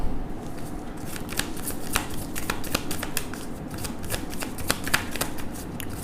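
A tarot deck is shuffled and cards are drawn, giving a steady, close riffling and papery flicking with light snaps throughout.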